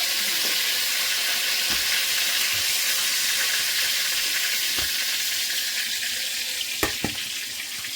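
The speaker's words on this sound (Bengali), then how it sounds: "আলুগুলো ভেজে নেব। লবণ দিয়ে দিচ্ছি, লবণ দিয়ে ভেজে নেব" Potatoes frying in hot oil with salt, for a prawn dish. A steady, close sizzling hiss runs throughout, with a few soft clicks and stirring knocks near the end.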